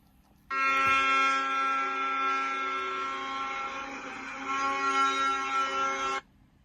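A Doosan DX210 excavator starts up and runs with a steady droning, buzzy engine tone for several seconds, then cuts off abruptly, fairly close and loud.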